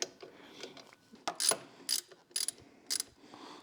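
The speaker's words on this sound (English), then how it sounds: "we're tightening up the nut here" A nut on a fork-mounted LED navigation light on a Honda Gold Wing is tightened with a ratchet, producing short bursts of clicking pawl sounds in an irregular rhythm, close and moderately loud.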